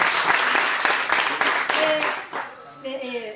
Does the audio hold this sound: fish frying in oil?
no